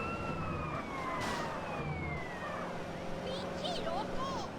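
Police car siren trailing behind the player in GTA San Andreas, a wailing rise-and-fall tone fairly faint over traffic and engine noise, with someone talking throughout.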